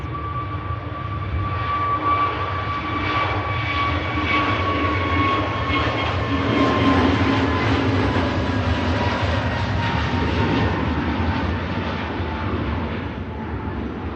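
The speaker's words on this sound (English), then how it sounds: "We've got a Jet 2, A321 Neo on the takeoff roll." A Jet2 Airbus A321neo on its takeoff roll at Manchester Airport gives a sustained engine roar with a steady, slowly falling whine, heard at a distance and swelling slightly mid-way, with no talk.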